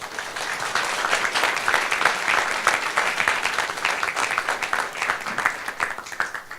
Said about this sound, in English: And a big, big applause,